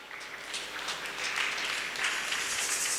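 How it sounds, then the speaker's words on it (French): A church congregation acclaiming during a French Sunday service, with soft, distant applause building gradually into a sustained, diffuse patter of many hands. "On acclame."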